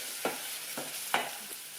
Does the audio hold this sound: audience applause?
no